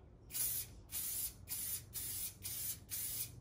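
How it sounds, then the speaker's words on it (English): Six evenly spaced hissing blasts from a spray paint can with a fat cap onto a guitar body, each about half a second long, close and crisp with short gaps between. "I'm just gonna spray it how I do a spray paint wall."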